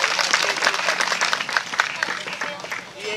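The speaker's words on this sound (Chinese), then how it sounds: "以热烈的掌声来欢迎他们精彩的演出" An audience at the 2017 Yunlin International Puppet Festival applauds a Sheng Ping Wu Zhou Yuan puppet troupe with a dense, steady patter of clapping, while an announcer speaks over it.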